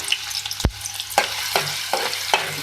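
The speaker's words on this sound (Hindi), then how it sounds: "सबसे पहले इसमें ऑयल में एक मीडियम साइज़ की प्याज ऐड कर रही हूँ मैं" A medium chopped onion frying in hot oil for aloo anda bhujia, a close sizzling hiss broken by one sharp clank and several lighter scraping stirs spaced about half a second apart.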